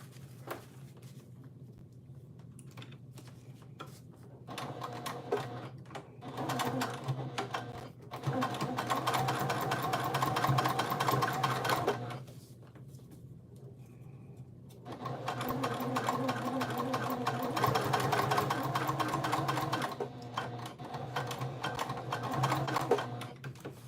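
A sewing machine runs in long bursts as it top stitches a modified Catalina inside panel, steady mechanical whirring in two sustained runs with quieter pauses between, up close and with no talking.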